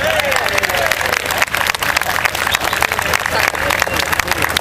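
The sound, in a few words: audience applauding a volunteer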